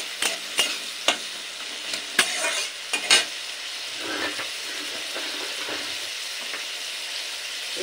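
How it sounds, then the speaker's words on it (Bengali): Carrots stir-fried in a hot pan with a little salt, a loud close sizzle broken by sharp spatula clacks and scrapes early on, then settling into a steady hiss, with no voices. "এবার গাজরটা কিছুক্ষণ নেড়ে নেব।"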